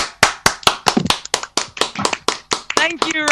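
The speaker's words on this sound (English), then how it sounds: "Well, there's a round of applause." On a live radio show, someone claps in a quick steady rhythm of a dozen or so sharp, close hand claps, ending under a brief vocal sound.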